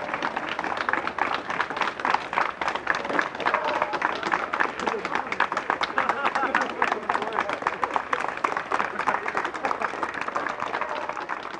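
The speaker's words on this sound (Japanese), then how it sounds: "皆さんで 拍手で。" Crowd of supporters at a Japanese labor strike site claps as people pass through a factory gate, rhythmic applause continuing steadily with overlapping voices and chatter underneath.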